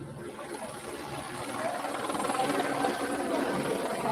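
A helicopter hovering overhead with a spotlight at night, a steady loud rotor and engine roar that grows slightly stronger and continues throughout without pause.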